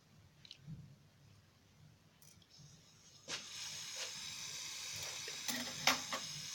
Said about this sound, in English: All it's doing is it fizzed around and reacted